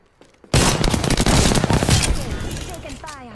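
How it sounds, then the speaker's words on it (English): Rapid automatic gunfire erupts in a dense, loud burst in the shooter video game Apex Legends, continuing for nearly three seconds before trailing off into chirpy game effects. "The enemies are shooting at me."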